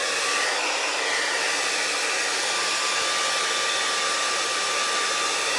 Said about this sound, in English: I'm going to grab my hair dryer. I'm going to put my hair dryer on medium heat.